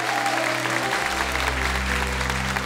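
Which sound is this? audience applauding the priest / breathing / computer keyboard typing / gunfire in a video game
audience applauding the priest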